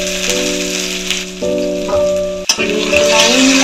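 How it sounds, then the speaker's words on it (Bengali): Chopped garlic dropped into hot oil with cardamom for a lote fish curry, bursting into a loud, close sizzle and crackle that stays steady, with a brief clatter partway through and a faint tonal hum underneath. "এবার আমি এর মধ্যে রসুন কুচনোগুলো আগে দিয়ে দেবো"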